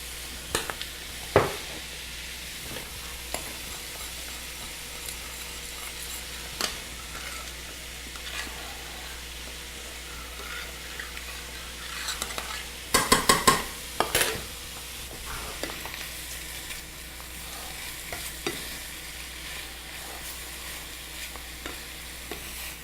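Shrimp and vegetables sizzle steadily in a hot pan seasoned with salt, pepper and cayenne, with scraping stirs and clacks of a utensil against the pan, the louder clatter bunching up near the middle.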